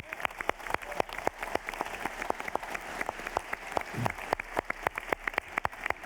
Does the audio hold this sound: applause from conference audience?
yes